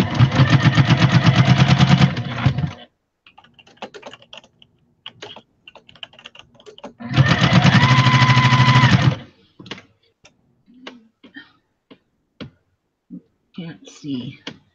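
A sewing machine that seems to have run out of thread whirs in two loud bursts of about two seconds each. Quieter clicks and handling noises fill the gaps between them.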